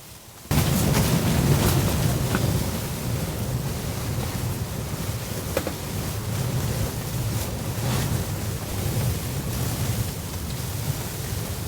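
Strong wind of a blizzard roars steadily around a tent, a dense rushing noise that swells and buffets without letup, fairly loud and close.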